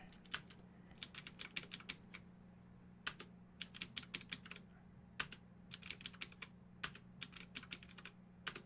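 Rapid keystrokes clatter on a computer keyboard in quick bursts separated by short pauses, close and fairly quiet, with no talking.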